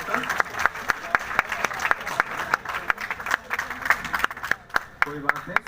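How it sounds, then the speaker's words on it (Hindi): An audience at a Lucknow University political science department program applauds to welcome a student performer. Brisk, uneven clapping runs throughout while a voice speaks over it. "और जोरदार तालियों के साथ स्वागत करिए"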